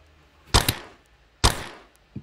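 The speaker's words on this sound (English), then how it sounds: "You just shot Pinguino" Two sharp gunshot cracks about a second apart, each with a quick echoing tail, followed by a faint click.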